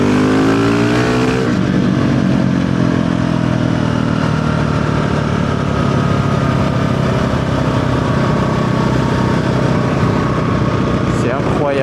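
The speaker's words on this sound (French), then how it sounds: "là, elle est en train de chauffer la moto" A motorcycle engine idles steadily while warming up at a large biker gathering, a continuous close, loud rumble with a brief rise in pitch at the start, then a steady drone.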